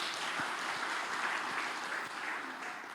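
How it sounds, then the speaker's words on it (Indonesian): Steady applause fills a church as a congregation claps for God, dense and sustained throughout with no voices over it. "Tepuk tangan buat Tuhan dulu."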